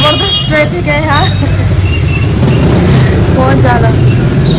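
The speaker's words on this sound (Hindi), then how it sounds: "इतना ज़बरदस्त ट्रैफिक है यार" Heavy road traffic during a storm-cleanup period: a loud, steady wash of engines and tyre roar with several horns blaring in rising and falling honks, close and continuous throughout.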